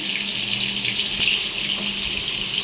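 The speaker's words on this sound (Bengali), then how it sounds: "এবার অল্প পরিমাণে জল দিয়ে একটা পেস্ট বানিয়ে নিচ্ছি" A small amount of water is poured into turmeric, sugar and other ground spices to make a paste for a village-style potato curry, a steady close trickle with a faint splash partway through, no talking.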